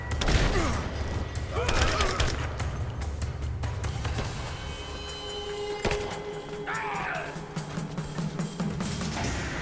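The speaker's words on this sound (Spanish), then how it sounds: "Disparo fuego de cobertura." Bursts of rapid gunfire crackle and thump over a busy battle din in Rise of the Tomb Raider, with shouted Spanish voices breaking in between volleys.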